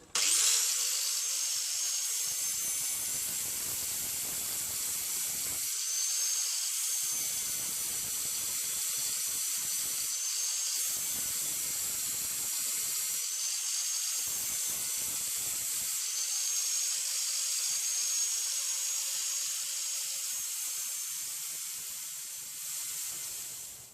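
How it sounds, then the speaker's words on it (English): An angle grinder cuts through the exhaust pipe work of a Hinckley Triumph Bonneville hardtail motorcycle with a long, loud, high-pitched whine, breaking into short pauses and restarts over about twenty seconds. "a bit of cutting and grinding"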